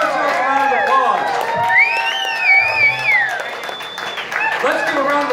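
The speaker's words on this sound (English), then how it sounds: "Give yourself a round of applause." Audience at a rockabilly show in San Antonio applauding, cheering and whooping, a dense continuous roar of claps and shouts with voices mixed in throughout.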